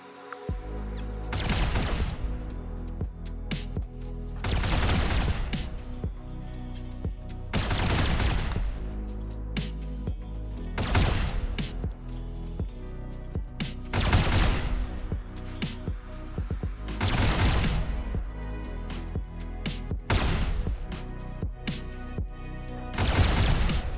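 Lasguns fire in a Rimworld battle against raiders, coming as loud volleys of crackling shots that repeat every few seconds with short lulls between them.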